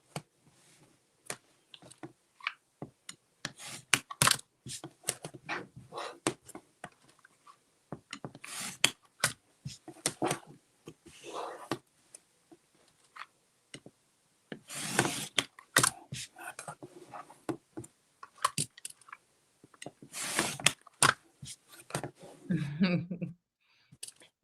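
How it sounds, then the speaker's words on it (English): Quilt block being trimmed with a metal trimmer with a crimped edge: sparse, irregular crisp snips and scrapes, close and fairly quiet, with pauses between cuts. "trim with, again, my trimmer with the crimped metal edge facing up."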